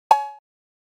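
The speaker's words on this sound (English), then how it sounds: "This is Ableton's cowbell that comes stock with Ableton." A single stock Ableton cowbell sample hit, bright and metallic, with a sharp attack and a quick ringing decay, followed by silence.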